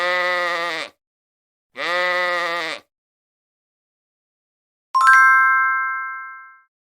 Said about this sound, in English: Sheep is the correct answer.